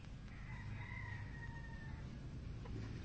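A rooster crows once, a long drawn-out call at moderate distance over a steady outdoor hum.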